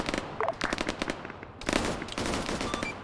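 Rapid automatic gunfire rattles through a military-style multiplayer game operation, with close bursts of machine-gun shots broken by a short pause, then a renewed dense volley.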